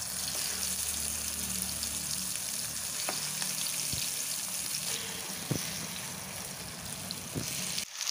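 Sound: eggplant frying in oil in a pan

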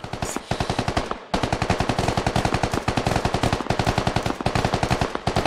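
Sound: gunfire exchange in video game SquadOps

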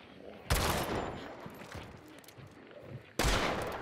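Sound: gunfire in the video game Hunt: Showdown

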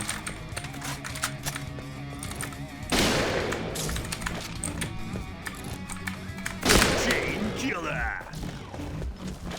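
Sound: gunfire in a Garena video game, M200 rifle

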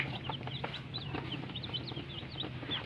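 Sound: Sasso chickens clucking

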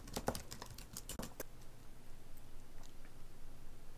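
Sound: typing a question on a computer keyboard

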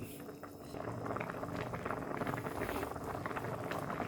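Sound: soup boiling in pot

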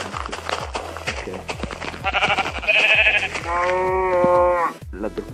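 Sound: sheep bleating in Minecraft video game

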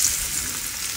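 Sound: breaded tofu frying in oil

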